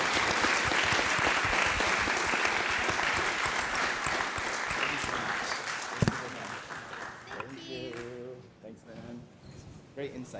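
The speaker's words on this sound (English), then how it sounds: "round of applause for everybody" Loud, dense applause from a conference audience fills the first six seconds, then fades out as voices and cheering take over near the end.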